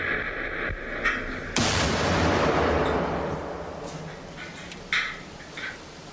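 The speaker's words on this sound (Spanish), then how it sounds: "es sometido a la fuerte detonación de una explosión de bomba colocada en un vehículo adyacente" A car bomb detonates beside an armored car prototype during a blast test: one sudden, loud boom with a long, hissing, rumbling decay, preceded by a softer thump and followed by a few faint pops.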